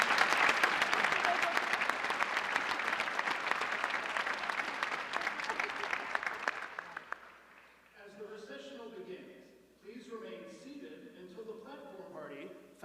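Loud, sustained audience applause at a university commencement ceremony fades out over several seconds, after which a speaker talks alone in a quieter hall.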